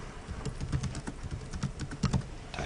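Quick, irregular clatter of keys on a computer keyboard, a dense run of light taps close by with brief gaps, no voices.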